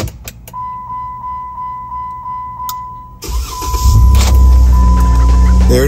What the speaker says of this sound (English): Let's see if we can start the car.